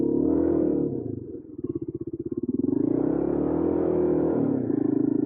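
Motorcycle ridden through sand in Mauritania, the engine droning low and close, dropping into a lumpy chugging stretch before the revs climb again to a steady pull.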